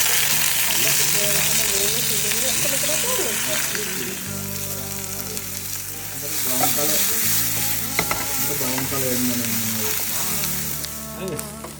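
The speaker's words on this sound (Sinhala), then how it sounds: "දැන් මේ හදන්නේ මේ කොස් එකට තෙල් කරා" Jackfruit curry fries and sizzles steadily in oil with stirring scrapes throughout, loud and close, while music plays underneath.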